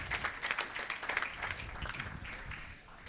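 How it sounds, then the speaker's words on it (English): A crowd at a student auction at an auctioneering college applauds steadily, a dense wash of clapping that holds for a few seconds and then fades slightly at the end. "How about a round of applause for Mike?"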